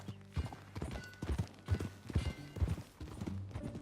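Horse hooves clip-clop steadily in Red Dead Redemption 2 as a rider moves along, a quiet, rhythmic run of hoof falls with faint background ambience.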